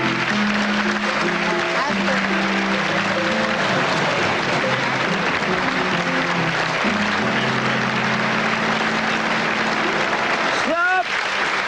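Sustained studio audience applause fills a French television variety show set, steady and dense throughout, with faint voices and tonal sounds underneath and a brief rising whoop near the end.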